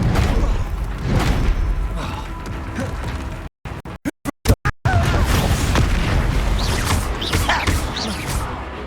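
Confringo spell blasts in the Hogwarts Legacy video game, loud booming impacts amid combat noise, with a brief stuttering silence of clicks midway before the chaotic bangs resume; a voice talks through it.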